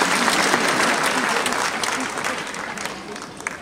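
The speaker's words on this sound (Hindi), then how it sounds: "तो आप सबके लिए एक जबरदस्त तालियां" A large audience applauds in an Indian stadium hall, a dense, loud, sustained wash of clapping from a big crowd that tapers slightly toward the end.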